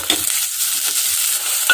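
Shallots, tomato and curry leaves are stirred in a hot pan for a sardine chilli curry, giving a steady sizzle with scraping strokes of the spoon close by and no voices.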